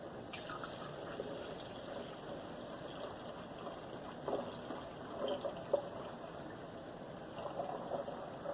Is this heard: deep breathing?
no